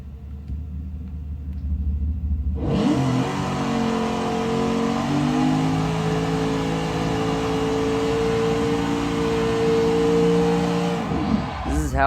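A car engine in Forza Motorsport 6 kicks in abruptly and revs hard and steadily while drifting, a loud sustained roar with shifting pitch that holds for about nine seconds before cutting off near the end.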